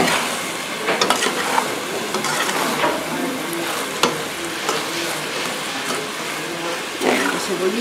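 Onion fries and sizzles steadily in a pan at a picantería, with scraping stirs and occasional clinks of a utensil against the pan; a voice speaks over the cooking.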